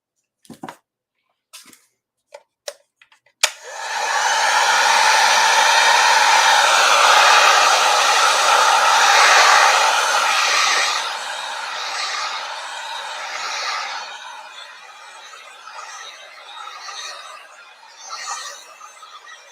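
A hair dryer blows steadily for about ten seconds to dry wet paint on a brown trout painting, loud and close, after a few short clicks, then fades and wavers at lower strength toward the end.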